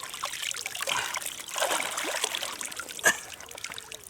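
Water trickles and splashes steadily as a carp is released back into a private pond, with one brief louder splash near the end.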